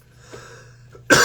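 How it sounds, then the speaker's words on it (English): A single sharp cough bursts out loud near the end of the short stretch, after quiet background with faint breathing. "Still battling a little bit of cough"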